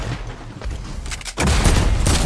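Rapid gunfire in the Fortnite video game, aimed at a robot: dense, loud bursts of shots that grow heavier and more sustained partway through, with no talk over them.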